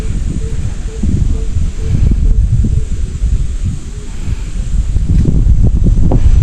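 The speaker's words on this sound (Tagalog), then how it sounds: "Mahangin." Strong wind gusting at a lakeside campsite on Chandava Lake in Cavinti, Laguna, a loud rumbling buffet of wind noise across the microphone throughout, with faint rustling in the background.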